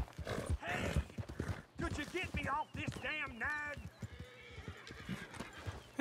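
A horse in the video game Red Dead Redemption 2 clip-clops along with bursts of hoof beats, then gives a shrill, wavering whinny, with a voice briefly heard around it.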